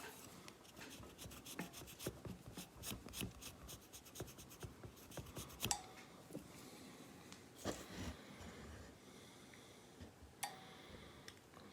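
Pink eraser rubbed over a discolored circuit board trace, producing faint, close scratchy scrubbing strokes in an irregular rhythm with a few sharper ticks, quiet against a low background.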